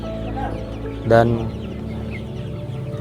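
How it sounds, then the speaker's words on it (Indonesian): Free-range village chickens on a farm cluck and murmur steadily at close range, with one louder squawk standing out briefly, while someone speaks a word over the flock. "Kami punya ayam kampung banyak hari ini"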